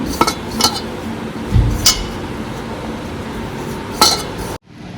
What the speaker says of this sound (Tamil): நல்லா மிக்ஸ் பண்ணிக்கிறணும்